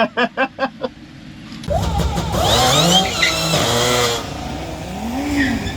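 A tuned 2012 Audi S4 with Integrated Engineering parts launches down a drag strip, a few sharp revs before a loud, rising engine roar that pulls through gear changes and then fades as the car runs away.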